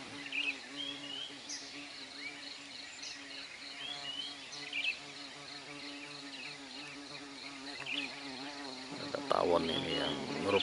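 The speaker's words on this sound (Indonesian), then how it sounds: "Tawon ini yang ngerupung saya ini, nah, itu suaranya." A wasp buzzes close around a person on the slopes of Mount Merapi amid volcanic sulfatara smoke, its droning hum rising and falling continuously while birds chirp faintly in the background.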